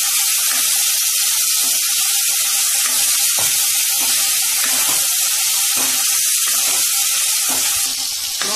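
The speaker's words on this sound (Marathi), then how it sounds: "भाज्या आपण या तेलात परतून घेतल्या त्याची चव छान येते" Vegetables sauté in hot oil in a pan with sambar masala for idli sambar, a loud, steady sizzle running throughout with regular scraping stirs.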